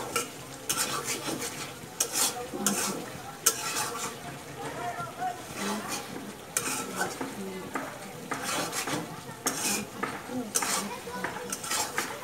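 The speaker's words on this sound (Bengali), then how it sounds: "মাংসের সাথে ভালো করে মশলাটা কষায় কষিয়ে মিশিয়ে নিতে হবে" A spoon repeatedly scrapes and clanks against a pot as chicken pieces are stirred into a spice masala for a chicken curry with chana dal, with a soft frying sizzle underneath the steady close-up stirring.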